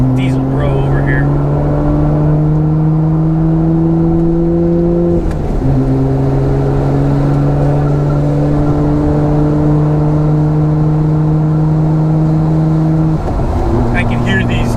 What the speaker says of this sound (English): I can hear these turbos going back and forth